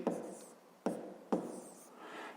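Three quiet strokes of a pen or marker scratching out a fifth-grade math solution, each starting with a sharp touch and trailing off.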